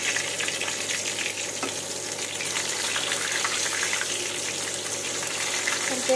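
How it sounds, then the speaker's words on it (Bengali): Pointed gourd (potol) pieces fry in hot oil, giving a loud, even crackling sizzle close up that holds steady throughout with no talk. "পটলগুলোকে আমি ভেজে নেব একদম লাল লাল করে"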